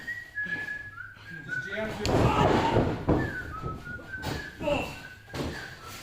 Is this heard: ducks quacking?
no